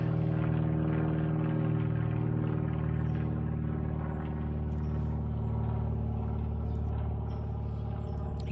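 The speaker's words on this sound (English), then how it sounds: "Sorry about the plane." Loud, steady drone of a propeller plane passing overhead on a cloudy day, filling the whole stretch with an even engine hum and no voices.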